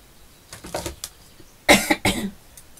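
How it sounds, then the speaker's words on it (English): Someone coughs several times nearby, a few light coughs followed by two harsh, louder bursts. "Sorry for coughing."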